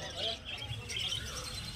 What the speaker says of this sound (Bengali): এখানে দেখতে পাচ্ছেন যে সমস্ত বদ্রি পাখি আছে, ফুল অ্যাডাল্ট বদ্রি পাখি আছে